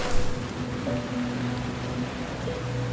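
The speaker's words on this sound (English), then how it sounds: "I wonder if it's gonna rain all day" Steady rainfall in the Thai jungle, a continuous close patter on surfaces with a faint low tonal hum underneath and no voices.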